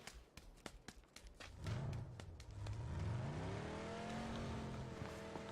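In a video game, a few sharp clicks and thumps, then a car engine revs up and holds a rising, droning whine, moderately loud with no talking.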